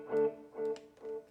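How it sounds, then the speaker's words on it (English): A guitar run through a tape delay echo effect: a single sustained note repeats three times about half a second apart, each repeat slightly softer and darker, with no talking. "Echo, right? In this case here, I think we have a tape delay there."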